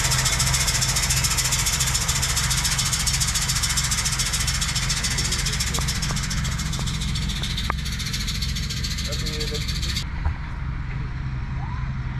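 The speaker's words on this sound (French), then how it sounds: "on va aller voir tout de suite un tracteur avec un épandeur à engrais" A tractor with a fertilizer spreader running at an Amazone demonstration in Germany; a steady, loud engine drone with low rumbling vibration and a few faint clicks, which drops away abruptly near the end.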